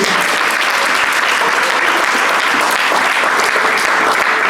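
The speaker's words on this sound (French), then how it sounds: "Est-ce qu'on peut acclamer pour la parole de Dieu?" A church congregation claps loudly and steadily for several seconds during a French-language sermon, a dense, continuous wash of many hands filling the room with no pauses.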